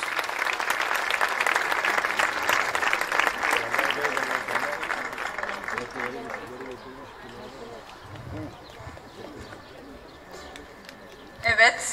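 Audience applause at a high school graduation ceremony in Izmir, a moderate clapping wash that fades out over the first half, leaving quiet room sound with a brief burst near the end.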